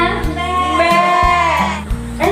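Group of children at a church children's gathering imitate goats with a loud chorus of wavering bleats. The voices are sustained and overlapping, and they keep going for the whole couple of seconds.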